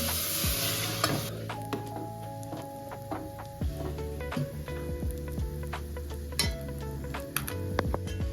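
Drumstick leaves sautéing in a pan with a steady close sizzle, broken by repeated scraping stirs and light clinks of a utensil against the pan.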